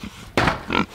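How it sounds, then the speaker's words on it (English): Pigs on a homestead grunt and oink while waiting to be fed, two short, close squealing grunts in quick succession. "But first we need to feed these pigs."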